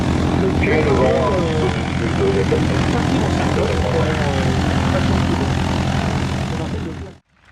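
Propeller aerobatic airplane with a 180-horsepower Lycoming engine droning loudly and steadily nearby at an air show, a continuous engine roar that fades out abruptly at the end while a commentator talks over it.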